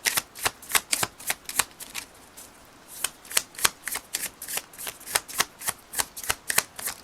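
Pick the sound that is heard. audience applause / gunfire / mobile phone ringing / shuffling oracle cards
shuffling oracle cards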